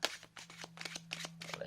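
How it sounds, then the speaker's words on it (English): A deck of playing cards is shuffled close up, a quick run of soft riffling flutters and taps, faint and alone. "let's shuffle it a bit more."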